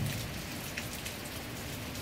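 Steady rain pattering on a surface in Kansas, a dense, even hiss of drops with no voices.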